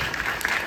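A crowd in an audience claps in a brief, steady burst of dense applause, heard alone without talk.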